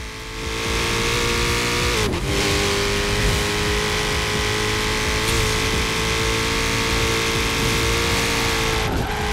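A Koenigsegg CCGT, 1100 kg with 1500 hp, revving in Forza Horizon 4, giving a loud, sustained high engine drone with steady pitch, briefly broken by gear changes, and no talking.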